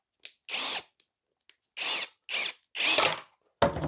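A power drill whirs in several short bursts, each spinning up and stopping, with brief pauses and small clicks between them.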